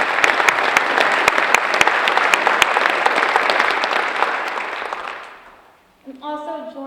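An audience at a high school National Honor Society induction ceremony gives a sustained round of applause, the dense clapping filling the hall before fading out, after which a voice begins speaking.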